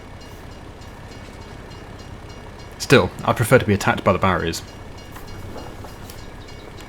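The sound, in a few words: passing train in video game Farming Simulator 22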